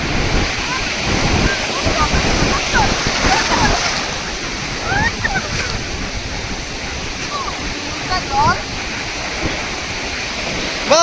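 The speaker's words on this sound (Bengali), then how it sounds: "বহুত ঢেউ আসছে মা" Sea waves roll and break continuously on Mandarmoni beach, a loud, close roar of surf and splashing with faint voices of people in the water mixed in.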